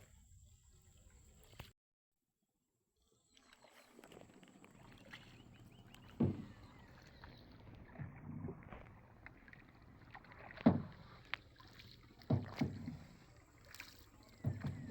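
A wooden rowboat being rowed on water at a seaside setting in Bangladesh, with soft splashes and knocks that come in an irregular rhythm, a few sharper strokes standing out over a quiet watery background.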